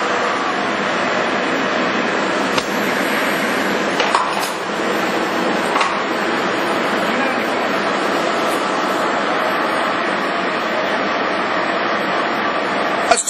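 An American Hole Wizard 4-foot by 15-inch radial arm drill runs its spindle with a steady, continuous mechanical whir and hum, plus a few faint clicks, and no talking.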